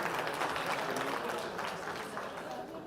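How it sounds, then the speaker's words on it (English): Conference audience applauding a speaker at a Pan-African conference on illicit financial flows and taxation, a steady wash of many hands clapping from a distance that tapers slightly toward the end. "can we please give him a big round of applause?"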